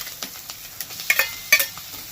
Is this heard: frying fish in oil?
yes